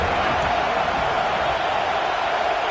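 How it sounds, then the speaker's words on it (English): A stadium crowd roars steadily in an NCAA football video game, a dense, unbroken wall of cheering noise with no distinct voices standing out. "This crowd bringing the energy and noise early."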